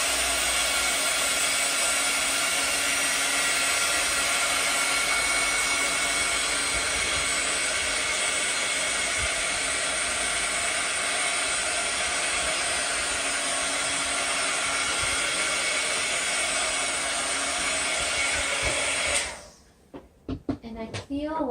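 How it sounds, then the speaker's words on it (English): A heat gun blowing to dry paint on an art journal page, a loud steady whooshing roar held for about nineteen seconds, then cutting off to a few faint handling noises. "Give it a blast with the heat gun."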